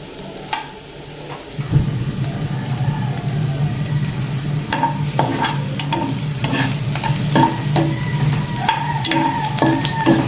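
Garlic and onion sizzle steadily in a hot pan while a utensil stirs and scrapes, with loud, continuous frying and occasional clinks throughout.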